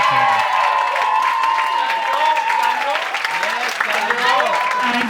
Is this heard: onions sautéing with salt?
no